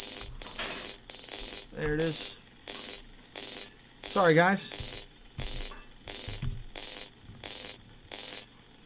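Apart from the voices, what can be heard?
alarms going off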